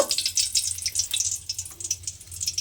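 Whole spices such as bay leaves, slit green chillies and nigella seeds hit hot mustard oil for a gourd dish and sizzle in a crackling, spattering burst that stays close and lively throughout, with no talking.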